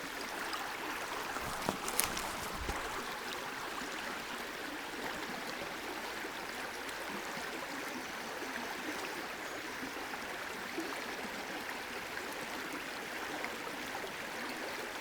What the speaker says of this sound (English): What sort of feelings do you get when you listen to this, the running river?